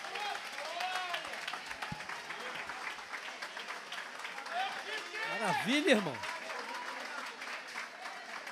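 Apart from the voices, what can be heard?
congregation clapping hands in church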